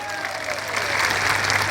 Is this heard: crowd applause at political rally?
yes